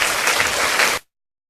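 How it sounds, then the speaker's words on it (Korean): An audience claps together in sustained, dense applause at a Korean gathering; it holds steady for about a second, then stops abruptly into silence. "박수 한번 칩시다"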